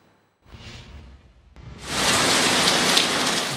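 Heavy rain during severe downpours between Naushahro Feroze and Dadu: after a brief quiet and a soft whoosh, a loud, dense roar of falling rain sets in and continues steadily.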